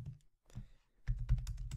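Quick bursts of typing on a computer keyboard while filling out a checkout form, a few soft clicks, a pause, then a denser run of keystrokes close up.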